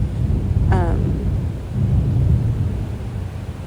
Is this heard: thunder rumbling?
yes